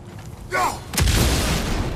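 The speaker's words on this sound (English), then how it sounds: "That bomb should help us out." Bomb explosion in the video game God of War Ragnarök: one loud, close boom with a long rumbling tail, after a brief tonal in-game sound.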